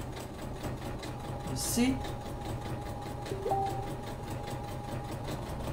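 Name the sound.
sewing machine sewing a rolled narrow hem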